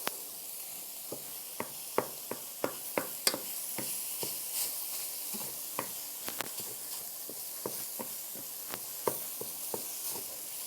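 Taco filling sizzles steadily in a pan, with a continuous hiss under repeated sharp clicks and scrapes of a spoon stirring it.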